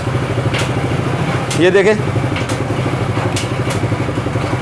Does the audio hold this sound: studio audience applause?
no